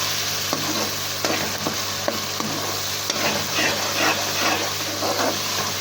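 Ginger and garlic fry and sizzle steadily in a pan at home while being stirred, a loud continuous crackle with occasional scraping taps of a utensil.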